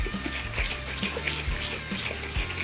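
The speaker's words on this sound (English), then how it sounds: "I'm gonna shake this up a lot. Gotta get all that honey on the bottom." Honey and water slosh as a jug is shaken hard to mix mead, giving a steady, close watery churning with low thumps of liquid against the sides.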